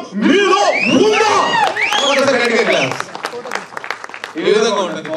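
At a movie trailer release event, a lively crowd claps and cheers with loud whoops and shouted voices rising over the clapping, the noise surging, dipping briefly and swelling again.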